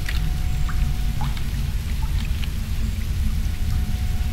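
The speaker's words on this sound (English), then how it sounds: "Why is it raining like that?" Steady rain falls in the video game Mirror's Edge, a continuous even hiss and patter with a few scattered brighter drips, constant throughout with no talking.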